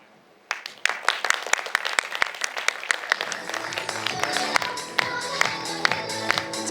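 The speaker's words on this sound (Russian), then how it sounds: "Бурные аплодисменты." Audience applause after a child's poem recitation at a children's theatre competition, starting as sharp scattered claps that quickly build into sustained, fairly close clapping from a hall audience, with faint voices underneath.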